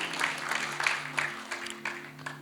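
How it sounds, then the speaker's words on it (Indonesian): Congregation applauding at a midweek church fellowship service: scattered, fairly quiet clapping with irregular sharper bursts over a steady low electrical hum, with no one speaking. "Tepuk tangan yang beri untuk kita."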